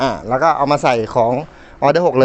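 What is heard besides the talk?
None of the usual background noises is heard.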